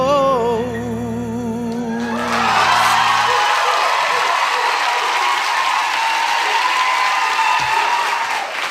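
After a short stretch of live music, a large audience at a vocal performance breaks into loud, sustained applause with cheers and whoops that fill the room and slowly thin out.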